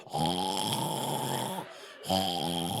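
A voice imitates snoring in long, rough, buzzing breaths, loud and close, with two drawn-out snores separated by a short pause.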